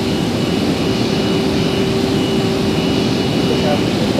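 An MD-11 jet takes off in a flight simulator game, with a steady, loud, broadband engine roar and a faint sustained whine that holds evenly throughout.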